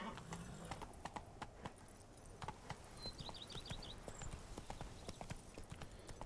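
Hooves of the horse Roach clip-clop in a quick rhythmic stream as it gallops across terrain in the video game Witcher 3, faint and steady with a short bird-like chirp midway.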